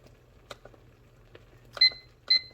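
A kitchen timer is set for two minutes while no-bake cookies cook. Soft button taps come first, then two short, bright electronic beeps close by.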